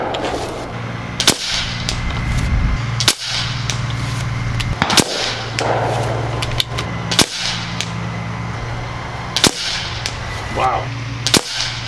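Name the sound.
Nova Liberty air rifle shooting 26 grain AVS slugs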